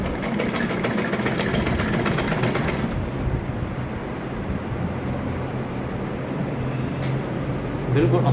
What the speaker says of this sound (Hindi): एक किनारे की सिलाई लगा देनी है इसके ऊपर